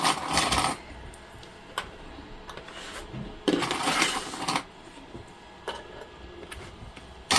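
Plastic sewing clips snap onto a fabric pouch made from placemats, several sharp clicking bursts at irregular intervals, close and distinct with light rustling between, no talk.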